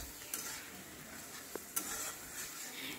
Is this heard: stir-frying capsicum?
yes